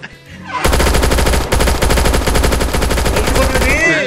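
Rapid automatic gunfire in the VR game VRChat Prison Escape, a loud sustained burst of machine-gun shots that starts abruptly and runs continuously to the end, with a faint voice underneath.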